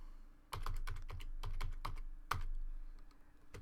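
Typing Python code on a computer keyboard: a quick, close run of crisp key clicks in an irregular rhythm, alone in a quiet room.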